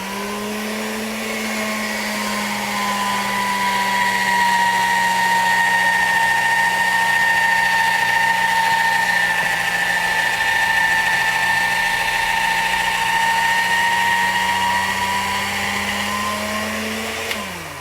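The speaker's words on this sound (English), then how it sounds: "And then I'm going to run it through my rollers here." A motorized pasta roller flattens pasta dough for linguine, a steady close mechanical whir that spins up, holds with a slowly drifting pitch for about fifteen seconds, then winds down, with no talk.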